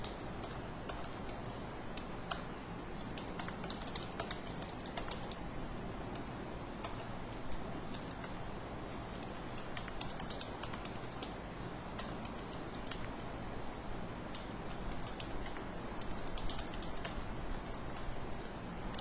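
Someone types on a computer keyboard while entering data into an Excel spreadsheet, producing a continuous patter of rapid clicks over a steady background hiss, with no speech.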